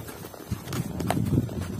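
Horses walk on a late-afternoon horseback ride in the countryside, hooves clip-clopping in an uneven rhythm at close range, with a faint voice in the background.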